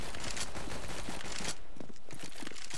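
Rapid gunfire from the Desert Eagle pistol in Counter-Strike: Global Offensive on the Cache map, dense loud bursts of shots packed together, then a sharp drop to sparser shots and footsteps.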